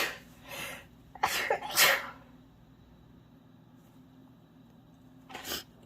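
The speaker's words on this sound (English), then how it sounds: "I'm gonna sneeze." A person with a cold sneezes several times in quick succession while crafting a junk journal, loud bursts close by, then another single sneeze a few seconds later in an otherwise quiet room.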